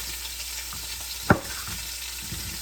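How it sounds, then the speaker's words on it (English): Beef pot roast browns in a hot pan with a steady, moderate sizzle, broken once by a brief sharp clatter of the pan or utensil. "while we're waiting on that meat to brown on the other side"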